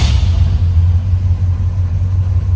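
A 1966 Ford F100 big block V8 rumbles loud and close, a deep steady engine roar with a slight swell, no talk over it.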